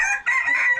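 A single hen lets out a drawn-out, loud squawking call lasting under a second, close by, near nesting boxes.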